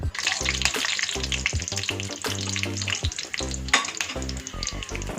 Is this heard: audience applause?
no